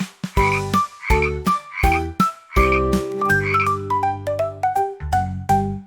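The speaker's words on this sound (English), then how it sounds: "Five little froggies jumping in the pond." Cartoonish frog croaks for a children's song sound in a bouncy rhythm, a string of loud, tonal, ribbity bursts that step through changing pitches, close and alone.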